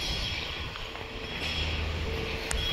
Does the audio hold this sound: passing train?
yes